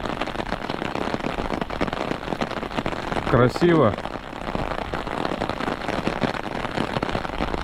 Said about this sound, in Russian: Опять дождь идет в дорогу